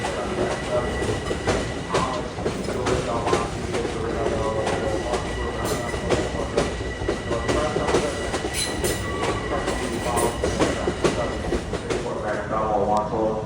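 A Long Island Rail Road commuter train pulls into the busy Jamaica hub station during the evening rush, its steady rumbling roll and clacking wheels filling the platform at close range, with faint squeals and background voices.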